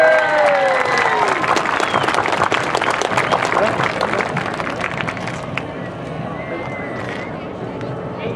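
A parade crowd applauding a passing band at a Christmas parade in Adelanto, dense loud clapping and cheering that swells and then thins out slightly, with voices mixed into the noise.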